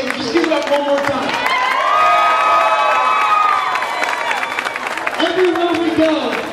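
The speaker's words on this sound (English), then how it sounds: "A big round of applause you gave him. Just give it up one more time." A wrestling show crowd applauds and cheers, loud and close, with whoops and shouted voices riding over sustained clapping throughout.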